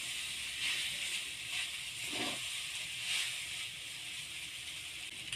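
Drained pasta being fried in a pan with chopped green chilli, producing a steady, even sizzling hiss that runs without a break, with a few faint stirring clatters underneath.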